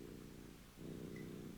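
A cat purrs close up, a soft, low rumbling rhythm that pulses evenly and grows a little stronger halfway through, faint and on its own.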